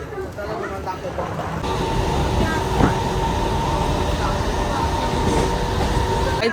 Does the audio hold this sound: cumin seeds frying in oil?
no